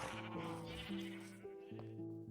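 Minecraft sheep bleat repeatedly in quick succession, close and clear, with overlapping electronic tones of the game's background music and no talking.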